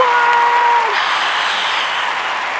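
Animated crowd roaring into cheers and applause as a celebrity appears at a book tour event, a bright tone fading out as the steady clapping swells in and carries on.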